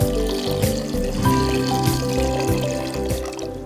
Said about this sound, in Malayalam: ഇനി ആവശ്യത്തിന് വെള്ളം ഒഴിക്കുക.